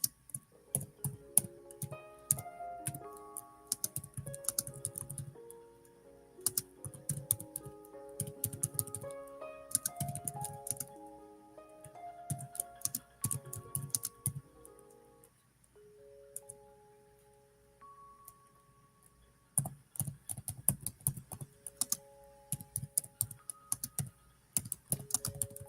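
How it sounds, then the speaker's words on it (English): Typing on a computer keyboard, bursts of quick close key clicks over soft background music, pausing around the middle and resuming near the end. "let me type that in"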